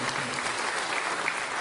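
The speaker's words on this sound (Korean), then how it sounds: "우리 감독님과 사모님 오셨으면 박수 해주시기 바랍니다" Congregation applauding at a Methodist church thanksgiving service: a dense, continuous clapping of many hands, close and steady with no pause.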